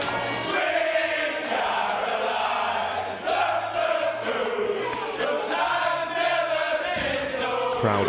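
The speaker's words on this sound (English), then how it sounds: "the crowd absolutely love that one" Crowd at a snooker shootout event cheering and shouting loudly after a player takes his first frame, sustained roaring voices rising and falling, close and dense throughout.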